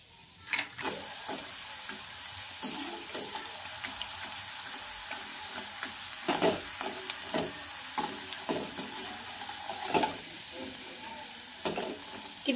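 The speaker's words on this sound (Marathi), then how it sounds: "मी तुम्हाला आता फ्राय करून दाखवते" Potato and sago chakli fry in hot oil with a steady close sizzle and hiss, broken by occasional sharper crackles and stirring noises. No one speaks.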